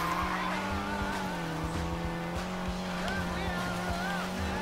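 Racing car engine from an opponent following close behind in Need for Speed Payback, a steady droning roar with rising and falling engine tones and occasional tire noise, loud and continuous throughout.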